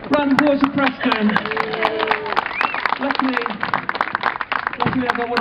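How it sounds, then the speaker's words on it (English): Crowd applause for Preston at a Brighton Fringe street performance, a steady spatter of claps that carries throughout, mixed with cheering voices and people talking nearby. "Round of applause for Preston."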